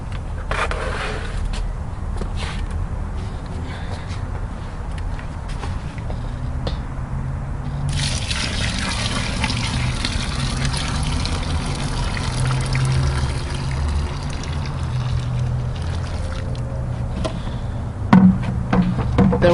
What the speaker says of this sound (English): I'm going to dump the whole rest of our sparge water right in there.